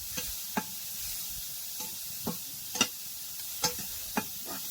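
Food frying in a pan and being stirred, a soft steady sizzle broken by several distinct scraping clacks of the spoon against the pan, spaced irregularly, with no talk.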